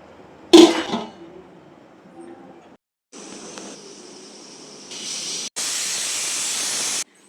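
A pressure cooker on the stove with basmati rice mutton biryani lets out a sharp metallic clank, then bursts of loud hissing steam, building to a sustained whistle near the end.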